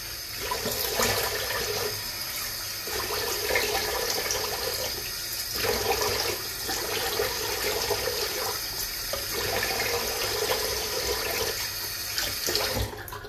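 Tap water runs steadily at close range while a shaved face is rinsed between razor passes, a continuous splashing wash with small shifts in flow and no voices.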